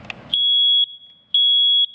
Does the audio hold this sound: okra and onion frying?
no